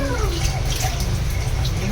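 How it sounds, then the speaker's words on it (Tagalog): Water runs weakly from a tap in a continuous splashing trickle, with faint voices in the background. "Grabe tubig dito, mahina."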